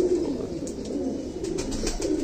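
Soft, repeated pigeon cooing, a low throaty murmur close by, continuing steadily with a faint hum of background noise.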